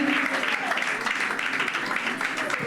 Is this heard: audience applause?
yes